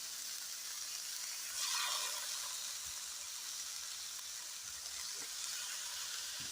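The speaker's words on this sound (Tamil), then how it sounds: "இது வந்து தோசைகளில் வறுக்க போகிறேன்." Small sardines frying on a dosa pan, giving a soft, steady sizzling hiss with a brief louder flare of spitting oil, faint and even for the whole stretch.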